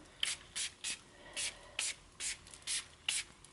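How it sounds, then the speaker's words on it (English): A Palo Santo spray bottle spritzes about nine times in a fairly even rhythm, each a short hissing puff, close and fairly quiet. "So then I take my, it's a Palo Santo spray with rose and wild tobacco."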